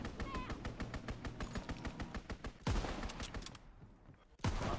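Rapid bursts of machine-gun fire from an aircraft strafing run in a WW2 video game, a steady rattling stream of shots broken by a few heavy booms and a brief lull near the end.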